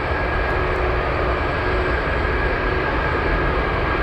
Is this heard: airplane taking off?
yes